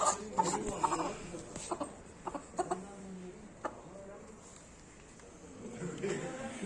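A frizzle chicken clucks softly and intermittently close by, over a steady noisy outdoor background with some faint voices.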